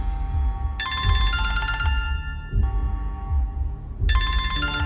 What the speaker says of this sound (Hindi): ठीक 15 मिनट बाद फिर से फोन की घंटी बजने लगी।